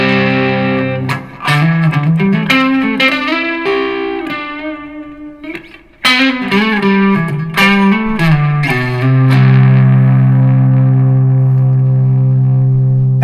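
Electric guitar played through an ENGL Fireball 100 amp with an overdrive pedal, loud and distorted riffs with chords and single notes that ring out, then a sustained held chord at the end.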